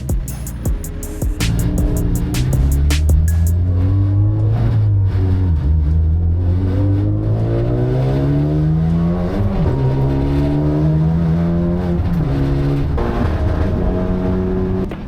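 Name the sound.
time attack race cars lapping Donington Park track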